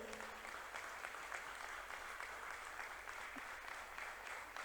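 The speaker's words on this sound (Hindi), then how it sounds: "तो बहुत जोरदार तालियां इन सब के लिए" Seminar audience in Pune applauds together, a continuous, even patter of many hands sustained across the moment, fairly quiet in level.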